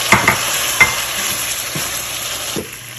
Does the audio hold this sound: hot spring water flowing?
no